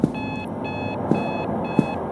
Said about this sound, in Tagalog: So, nag-iingay yung alarm clock ko.